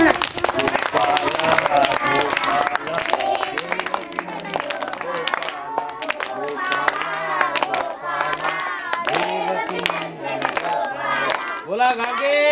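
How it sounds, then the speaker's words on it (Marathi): Worshippers at a kirtan clap their hands together with both arms raised, rhythmic claps running under chanting voices and crowd babble throughout. "करा हात वरती, दोन्ही हात वर करा आणि टाळ्या वाजवा."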